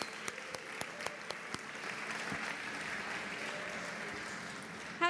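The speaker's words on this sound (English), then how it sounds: "Round of applause for DevSecCon." An audience at the DevSecCon London 2019 conference keynote applauds in a broad, steady wash, with a few distinct claps standing out at the start, heard at a moderate distance in a large hall.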